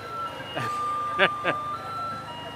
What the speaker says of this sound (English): That would be a calliope.